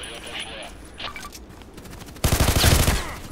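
An OTs-33 Pernach automatic pistol firing in Contract Wars, a loud, rapid burst of close shots following quieter clicks and scrapes.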